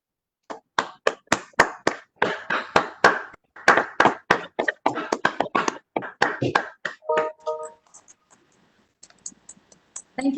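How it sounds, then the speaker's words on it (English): Students at a university orientation clap, a few separate claps quickening into a ragged burst of applause that thins into scattered claps before fading. "all students out there, I think you can clap from wherever you are"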